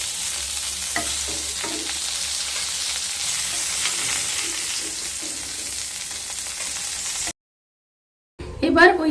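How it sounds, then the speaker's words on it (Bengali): Pointed gourd (potol) fries in hot oil with a steady, close sizzle and stirring noise for several seconds, then cuts out abruptly before a brief louder sound. "পটলগুলোকে ভেজে নিয়ে ফিরে আসছি। পটলগুলো ভাজা হয়ে গেছে।"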